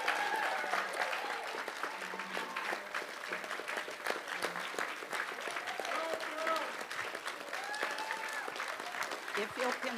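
An audience at a Lions convention applauds steadily for the full stretch, a dense, continuous patter of many hands clapping in a room, with faint voices mixed underneath.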